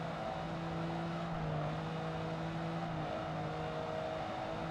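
A race car in Project Gotham Racing 2 holds a long, steady engine drone in first gear, with sustained tonal harmonics and no talking.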